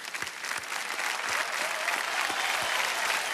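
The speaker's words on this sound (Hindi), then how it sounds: "इन सभी के लिए जोरदार मैं चाहता हूं कि तालियां दें" Studio audience on a Hindi quiz show, Kaun Banega Crorepati, applauds loudly in honour of teachers: a steady, dense wash of clapping throughout with no talk over it.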